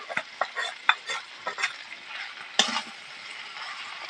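Mustard and chili paste stir-fried in a pan for an okra dish, with a soft hiss beneath repeated scraping strokes of a spoon and a few sharper clinks against the metal.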